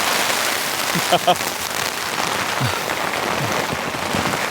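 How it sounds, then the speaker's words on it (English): Heavy rain drums steadily and loudly on a camping tent from inside, a dense, continuous patter with a brief voice partway through. "But this is some seriously heavy rain coming"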